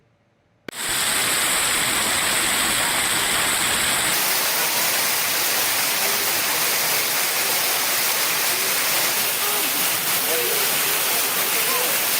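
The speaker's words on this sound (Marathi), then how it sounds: "आज सकाळी वाशिम रिसोड तालुक्यात पुन्हा मुसळधार पावसाने हजेरी लावली" Heavy monsoon rain pours steadily in Risod taluka of Washim district, a loud, even hiss that fills the whole stretch after a brief quiet start.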